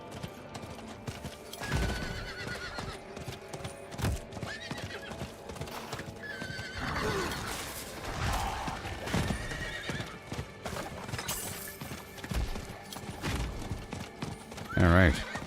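Steady hoofbeats clip-clop throughout in Diablo 4, with a horse whinnying at moments and a voice talking over the top; a sharp, loud burst lands near the end.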